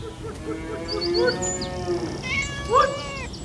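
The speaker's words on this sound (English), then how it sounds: "Bert Parker has kept farm cats for more than half a century" Farm cats meow in several drawn-out, wavering calls that overlap one another, close by and moderately loud over soft background noise.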